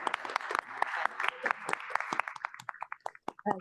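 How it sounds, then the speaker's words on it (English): Applause from a board meeting audience, a moderate patter of claps that thins into a few scattered, separate claps toward the end. "So let's give her a round of applause."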